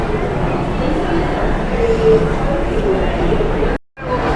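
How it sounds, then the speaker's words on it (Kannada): Steady low rumble of a metro train running through a Bengaluru metro station near MG Road, with indistinct crowd murmur and a brief sudden dropout near the end. "ಅಲ್ಲೋ ಮೆಟ್ರೋ ಸ್ಟೇಷನ್ ಇದು."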